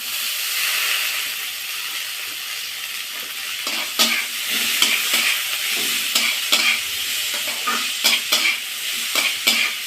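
Garlic cloves and boiled taro stir-fried in a pan, a steady bright sizzle with repeated scraping stirs that grow more frequent and rhythmic in the second half, close and alone.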